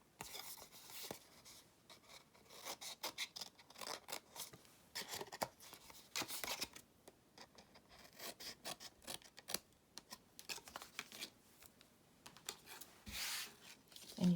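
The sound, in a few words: trimming edges of paper flaps for a lantern treat box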